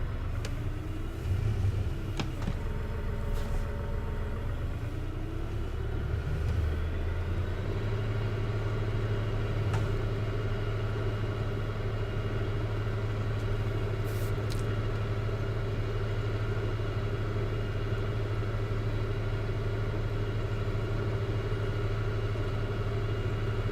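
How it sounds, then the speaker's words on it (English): A tractor engine in Farming Simulator 19 works hard under load, a loud continuous low rumbling drone that shifts pitch in the first few seconds and then holds steady, with faint clanks over it. "But you can definitely hear this tractor's getting its work out for this job."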